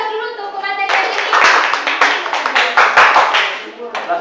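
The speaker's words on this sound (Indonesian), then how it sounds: "kita beri aplaus dulu untuk pemateri hari ini" Audience applause for the day's presenter, a dense crowd of hand claps rising quickly and sustained at a steady, lively level before thinning slightly at the end.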